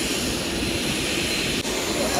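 Broad, steady engine roar of an airplane parked at Asaba Airport in Nigeria, fairly loud and continuous with no break, heard from close by on an empty apron.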